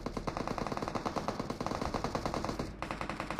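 Gunfire in the mobile battle royale game PUBG Mobile: rapid, evenly paced automatic bursts firing almost continuously, with a brief break near the end before the shooting resumes, clear and moderately loud.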